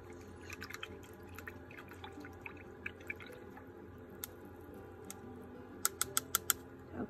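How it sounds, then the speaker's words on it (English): A paintbrush being rinsed in a water cup while painting with acrylics gives faint, scattered drips and small splashes, then a quick run of sharper taps against the cup near the end. "you can clean your brush."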